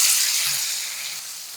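Tomatoes fry in hot oil with a curry-leaf tempering for a pea and potato curry, giving a steady, close hiss of sizzling that slowly fades a little, with no voices.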